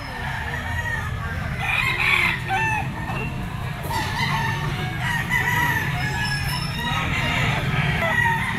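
Roosters and stags at a gamefowl pet market crow repeatedly, nearby and distant, over constant clucking and crowd murmur, with someone talking throughout.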